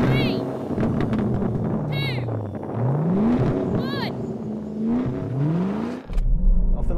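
A Ford Mustang and a Bowler Bulldog, both with 5.0-litre V8 engines, rev hard in a drag race. The engine note climbs repeatedly through several gear changes, loud and close, with a brief whine at each shift.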